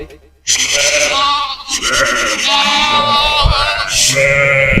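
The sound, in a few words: sheep bleating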